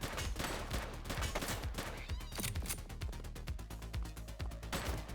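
Rapid bursts of gunfire from a suspect in the police video game The Precinct, dense overlapping shots crackling loudly and continuously with no pause.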